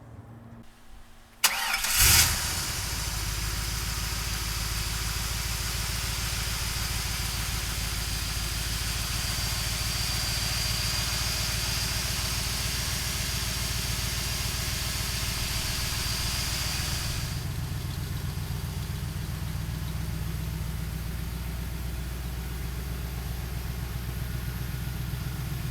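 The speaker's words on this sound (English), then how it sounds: "let's fire this Cobra up" A 1965 Shelby Cobra small-block V8 cranks briefly and catches, then settles into a loud, steady, rumbling idle that runs for over twenty seconds and mellows slightly near the end.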